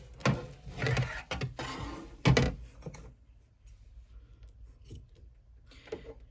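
Scissors trim tape on the back of an embroidery hoop in several quick, close snips, with quieter handling clicks and rustles in between.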